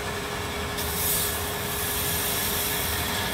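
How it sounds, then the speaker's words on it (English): Slack belt grinder smoothing a Timascus knife clip by hand, a steady abrasive rushing hiss with a brighter bite as the metal meets the belt, continuous and close. "just using the slack belt like that, kind of like a flat platen, works out really good"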